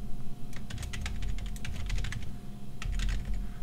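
Quick bursts of computer-keyboard typing as C++ code is entered, close and crisp clicks in two short runs with a gap between, over low background hum and no speech.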